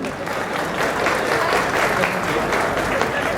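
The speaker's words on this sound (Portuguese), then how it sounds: "Palmas pro cara que tava aqui." Audience applause during a board game talk at Casa NERD: thick, steady clapping from a packed room, loud and continuous from start to finish, with voices faintly mixed in.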